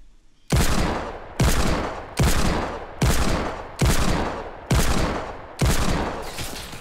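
Gunfire in the Fortnite battle royale game, shot from above: seven loud, evenly spaced shots about a second apart, each with a booming decay, and no speech.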